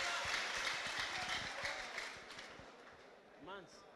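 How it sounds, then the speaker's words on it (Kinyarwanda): Motorcycle taxi riders at a meeting in Rwanda applaud in a fairly faint, distant patter that fades, and then a voice begins to speak. "Mwose mutanga amashyi uburyo bugaragara."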